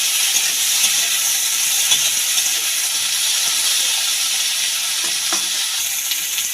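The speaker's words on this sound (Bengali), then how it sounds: "এইগুলো আমি তেলের মধ্যে দিয়ে দিলাম বিমসগুলো ভালো করে ভেজে নেবো" Cut green beans fry in hot oil for a Bengali beans and potato curry with prawns, giving a loud, continuous close-up sizzle with faint scattered crackles throughout and no talking.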